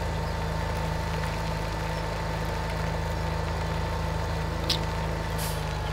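A Case IH tractor engine driving along, a constant loud droning hum with steady low rumble throughout and no talk over it.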